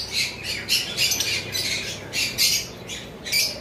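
Several caged lovebirds squawk in quick, shrill, repeated calls, close and fairly loud over a steady background hum.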